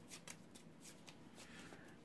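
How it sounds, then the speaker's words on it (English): Deck of cards being shuffled, quick riffling bursts of soft papery flicks in an uneven rhythm, close and quiet with no talking. "I'm going to shuffle my deck up"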